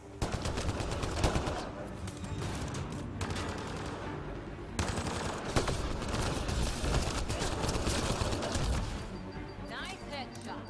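Sustained gunfire from Mass Effect: Andromeda plays as loud, dense automatic bursts with brief pauses between volleys, and voices talk faintly beneath the shooting.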